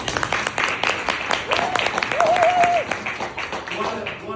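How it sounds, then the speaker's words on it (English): An audience applauds at a political event in Louisiana honoring Congressman Carter, dense clapping that swells and fades over a few seconds, with voices and a brief tone mixed in. "A big round of applause for our second"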